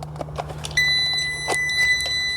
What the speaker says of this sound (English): it is showing red light and it's beeping, which it means that the booster battery is very low